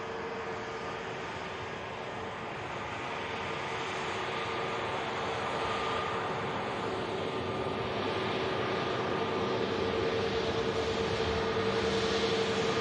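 An Airbus airliner taxis at Manchester Airport, its engines giving a steady, moderately distant whine and rumble with a faint tonal hum that swells slightly toward the end.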